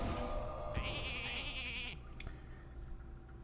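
A single sheep bleat from a mage's polymorph spell in a video game rings out for about a second over steady background game music.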